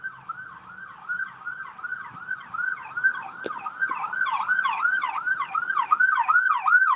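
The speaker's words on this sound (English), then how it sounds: "Hold on, it's an ambulance right here." Ambulance siren on a city street, a rapid rising-and-falling yelp wail repeating steadily and growing louder as it draws closer.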